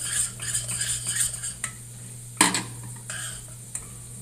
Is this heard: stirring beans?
yes